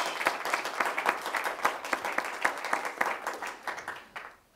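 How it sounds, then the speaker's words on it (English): A seated audience at a Texas public education event gives a round of applause, steady rapid clapping at moderate volume with a few louder claps, tapering off over about four seconds. "please join me in giving a huge round of applause for Juliet Stipeche"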